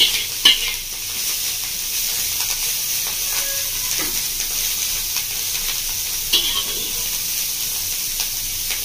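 Small shrimp sizzle and fry steadily in a hot pan with bottle gourd for lau chingri, a continuous close hiss broken by a few louder spatters and stirring scrapes.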